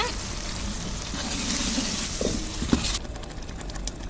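Garlic, cumin and tomato paste sauté in a pan for a Tamil-style meat curry, with a dense, loud sizzle and a few stirring clicks before the frying noise abruptly thins to a quieter hiss; no talking.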